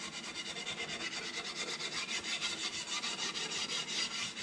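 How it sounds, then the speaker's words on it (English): Rough sanding mesh scrubbing lacquer off a wooden axe handle, a steady rasping back-and-forth rhythm of quick strokes, close and continuous. "this is some real rough kind of sanding mesh. Works pretty good for just making sure it's all off of there."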